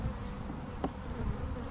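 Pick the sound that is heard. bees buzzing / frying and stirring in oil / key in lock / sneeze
bees buzzing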